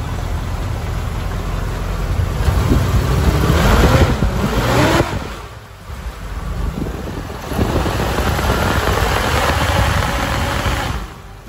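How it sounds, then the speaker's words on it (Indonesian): A car engine is revved from idle near 900 to 1000 RPM, spinning up an engine-driven visco radiator fan, producing a rising then falling whoosh and roar, a brief drop to quiet, then a second sustained burst of blowing air. "contohnya digasnya di sini, dia bakal kipasnya jadi kenceng banget, anginnya jadi kenceng banget ke sini."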